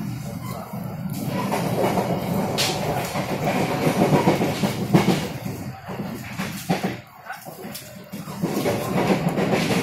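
Inside a train carriage on a rail journey from Senen to Malang, a continuous rumble and rattle of the moving car fills the space with clickety-clack from the track, a brief dip near the end, and a voice faintly audible.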